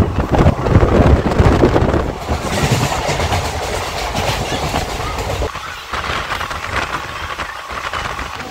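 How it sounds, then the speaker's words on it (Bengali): A train pulls out of Uluberia station on the Kolkata to Digha line, a loud rumble of wheels and rail clatter mixed with heavy wind buffeting, with no talk. "তো এবার কিন্তু ট্রেন ছেড়ে দিচ্ছে"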